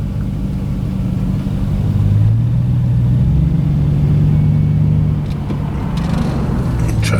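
A vehicle engine rumbles loudly nearby while backing a trailer in at a shop, revving up and holding a rising drone midway before easing off, with no talking.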